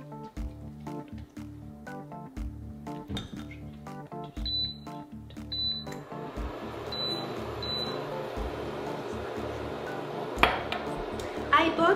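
Frozen cauliflower rice tumbles into a cooking pot, a dense rustling scrape and patter of icy grains filling the second half, preceded by scattered clinks and knocks of the pot and utensils close up.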